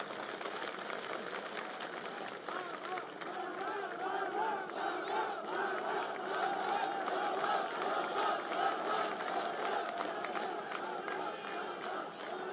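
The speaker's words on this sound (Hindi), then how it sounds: "तालियों की गड़गड़ाहट से शिवराज सिंह जी की स्वागत करें।" A big crowd at an outdoor political rally in Shivpuri cheers and shouts in welcome, a continuous roar of many voices that swells midway and holds steady throughout.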